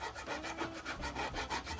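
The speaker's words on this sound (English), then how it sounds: "A little sanding." Sandpaper rubbing back and forth along wooden edges to break them on a DIY banana feeder, in steady rhythmic strokes, close and faint with no talk.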